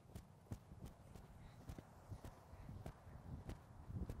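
A horse canters during a riding session, with soft rhythmic hoofbeats thudding in regular three-beat groups at moderate distance and no talking.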